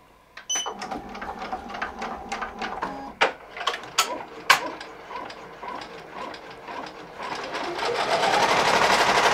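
A Ricoma embroidery machine stitches a logo onto a beanie held in a hoop, with rapid mechanical needle clatter and ticking that rises and builds steadily, close and fairly loud with no voices.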